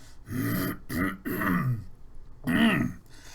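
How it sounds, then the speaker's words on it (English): A single person clears their throat with a few rough, guttural rasps in quick succession, close and fairly loud, with voiced grunting bursts. "let me clear my throat"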